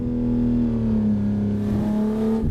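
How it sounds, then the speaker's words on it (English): A 1000-plus horsepower car in the racing game Assetto Corsa holds a loud, steady engine note with a whirring turbo and intake sound, rising slightly before cutting off abruptly at the end. "You can hear the engine, you can hear the turbo, the intake."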